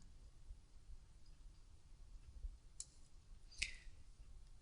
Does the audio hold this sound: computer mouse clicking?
yes